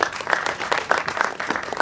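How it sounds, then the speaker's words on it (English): Audience applause in a hall during an in-conversation session at the IFFI 2019 film festival in Goa, a steady dense patter of many hands clapping close by for under two seconds, with no talk over it. "I think that community deserves an round of applause."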